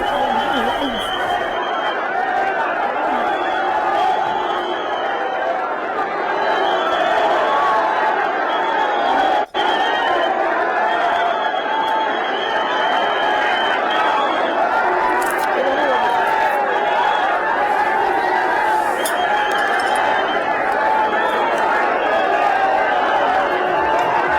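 Large crowd gathered in Baramati to pay last respects to a departed leader, a dense, continuous murmur of many voices and shouts, loud and sustained throughout, with a steady high whine running over it.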